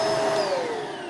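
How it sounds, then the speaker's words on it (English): A Bissell vacuum cleaner runs loudly and steadily, a close, continuous motor whine with a slowly falling tone and no voices. "Typical loud vacuum."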